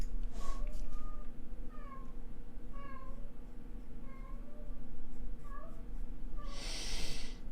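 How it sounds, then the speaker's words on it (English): A pet cat gives a string of plaintive, sad-sounding meows at a steady pace, fairly close, over a constant low background hum and rustle. "My cat is making noises that make it sound like he's very sad"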